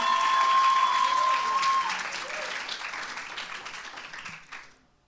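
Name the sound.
congregation applauding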